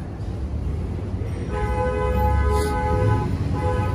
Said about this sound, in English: He's honking at the other guy driving at a red light.